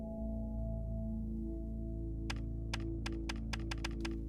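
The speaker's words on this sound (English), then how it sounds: "Frau taps away at her PC keyboard and opens up what seems to be a robot company's homepage." Typing on a PC keyboard in the Robotics;Notes video game: a run of about eight sharp, separate key taps starting partway through, set over a steady low electronic hum and background music.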